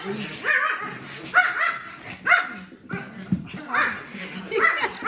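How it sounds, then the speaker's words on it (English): Several dogs play and bark loudly indoors, with yips and whimpers in short bursts mixed with a person talking over the noise. "My dogs are playing and they're being really loud."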